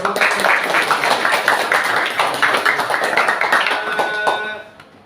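A school class claps hands together in a classroom lesson, producing a quick, rhythmic run of loud claps that stops abruptly near the end.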